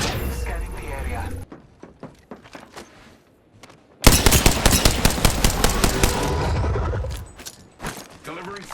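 Rapid automatic gunfire in the video game Apex Legends, loud dense bursts of shots with a short break in the middle and a heavy sustained volley afterward, with game voice lines over it.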